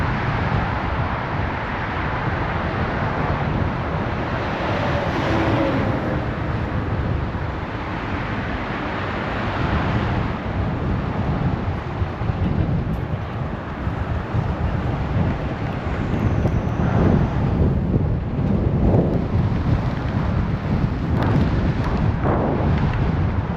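Strong wind buffets the microphone during a winter bike ride, making a loud, continuous roar that surges and eases over about twenty seconds with no voices.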